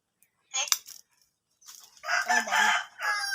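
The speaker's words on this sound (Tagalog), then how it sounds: "Napaparinig yung manok." A rooster crows loudly nearby in a long, rising then trailing call, preceded by a few shorter clucking sounds.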